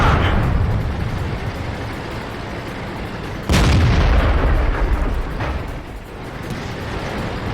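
Tank cannon shots in World of Tanks, an IS-2's gun matched against a KV-1S Russian heavy tank: a sharp booming blast stands out near the midpoint over constant battle rumble, with fainter thuds around it.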